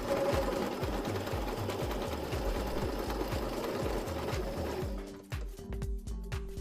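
An electric sewing machine stitches scraps of linen fabric together, a loud, steady rapid needle clatter that slows into a few separate stitches near the end.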